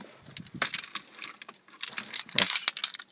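Car keys jangle in short bright bursts as they are handled near the ignition of a Renault Megane, close by with brief quiet gaps between shakes.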